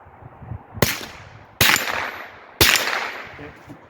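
Three sharp rifle shots fired from a bipod with an offset red dot, spaced roughly a second apart, each a loud close crack with a brief ringing decay, no talking.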